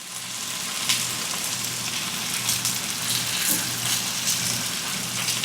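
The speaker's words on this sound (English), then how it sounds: "Then let them fry now for a little bit so they get a little bit brown." Sliced potatoes frying in hot lard in a single layer in a home kitchen in Mexico, a steady, close sizzle and crackle that carries on without a break and with no one talking.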